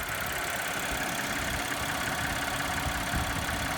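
The supercharged 3.0 V6 of a 2015 Audi Q7 Quattro S-Line idles under an open hood, a steady close hum with an even broadband hiss and no change in pitch throughout.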